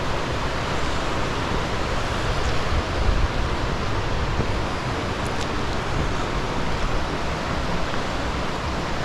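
Rushing water from Birthi waterfall near Munsiyari, Uttarakhand forms a steady, dense roar that stays constant throughout with no voices.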